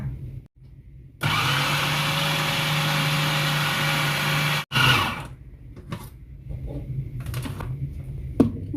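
A blender grinding beef for homemade meatballs whirs steadily at high speed for a few seconds, then stops abruptly, followed by clattering and handling noises.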